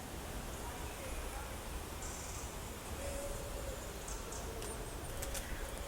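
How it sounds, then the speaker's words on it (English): Pigeons cooing alongside ducks and geese calling outdoors, faint and distant over a steady background hiss, with scattered brief chirps. "Just listening to the bird song."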